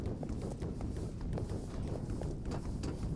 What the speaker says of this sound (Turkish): Ayak sesleri yakınlaşıyor.